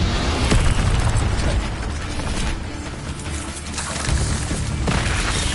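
Incendio fire spell cast amid rapid spellcasting combat in Hogwarts Legacy, a dense roaring burst layered with clattering impacts and crackles, sustained and loud throughout.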